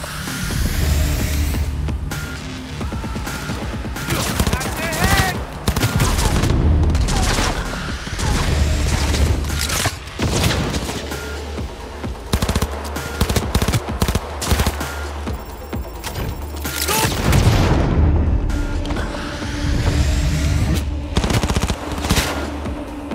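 Gunfire in the video game Cyberpunk 2077, with repeated loud automatic bursts and volleys of shots coming in waves over a heavy low rumble, continuing throughout without talk.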